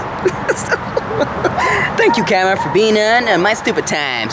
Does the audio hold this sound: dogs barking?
yes